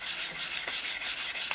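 Steady, rhythmic rubbing strokes on dirty BMW F 650 GS motorcycle exhaust downpipes, a close, even scrubbing hiss repeating about every quarter second with no talk.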